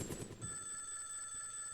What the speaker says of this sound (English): Telephone, old school phone